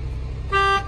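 Car horn of a 2013 Nissan Xterra with a faulty spiral cable sounds in a single loud, steady honk lasting about a quarter second, over a low idling engine hum.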